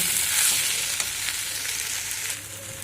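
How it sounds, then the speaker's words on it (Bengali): Mung dal and flat beans stir-fried in a pan with a steady sizzle and occasional scrapes of a spoon, close and even throughout, with no talking. "মুগ ডাল দিয়ে আরও কিছুক্ষণ নেড়ে চেড়ে কষিয়ে নেব"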